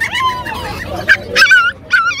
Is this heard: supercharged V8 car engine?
no